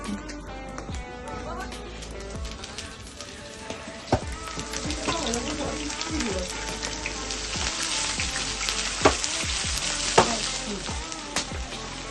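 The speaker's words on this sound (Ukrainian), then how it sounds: "Підготували овочі з грибами, зараз будемо смажити." Vegetables and mushrooms sizzle and crackle in a frying pan made from a disc harrow blade while being stirred, with scraping and sharp clicks scattered across a steady frying hiss.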